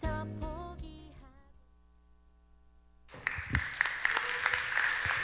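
A church young-adults worship congregation breaks into applause after music fades to quiet, and the clapping swells into steady, fairly loud indoor applause for the last couple of seconds.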